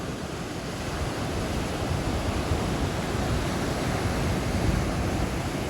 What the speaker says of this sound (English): Give you an idea of the size of the breakers.